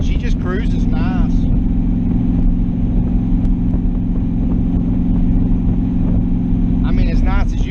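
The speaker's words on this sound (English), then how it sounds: "we're cruising right now at 55, around 2200 RPMs, and I mean, she just cruises nice" A car with twin front side pipes cruises at 55 mph around 2200 rpm, giving off a steady low engine drone and road rumble heard from inside, with someone talking briefly at the start and end.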